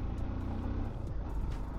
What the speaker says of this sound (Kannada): ಹಿಮಾಲಯನ್ ಬೈಕು ಗಾಡಿ ಯಾವುದಕ್ಕೂ ಅಂಜಲ್ಲ ಗುರು.